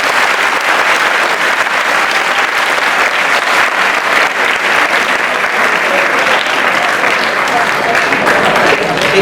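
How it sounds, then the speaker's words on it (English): An audience at a group discussion event gives loud, dense, sustained applause, a thick continuous wash of clapping that holds steady throughout. "Please give a big round of applause."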